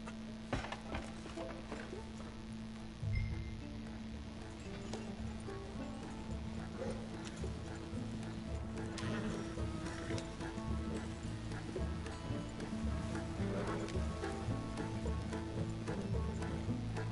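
Horse hooves in the video game Red Dead Redemption 2, a steady clip-clop of a ridden horse continuing throughout alongside ambient game sounds and a soft thud near the start.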